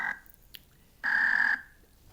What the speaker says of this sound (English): So lots and lots of toads calling.